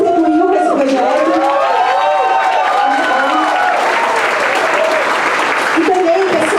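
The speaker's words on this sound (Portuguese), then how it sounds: "eu queria puxar uma salva de palmas a todo mundo que contribuiu para esse projeto" Loud, steady crowd applause at a launch event in Vila Madalena, São Paulo, with cheers and shouts riding over the clapping throughout and voices calling out in the audience.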